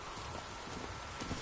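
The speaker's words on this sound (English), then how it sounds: "Y nos vamos a montar en caballo." Horse hooves clip-clop at a steady rhythm in The Witcher 3 video game, faint and continuous, with no voices.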